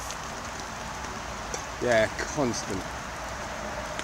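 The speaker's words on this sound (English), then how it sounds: "Still pissing down with rain." Steady rain pattering on a tarp rigged outdoors beside a house, a constant soft hiss with a brief spoken word over it.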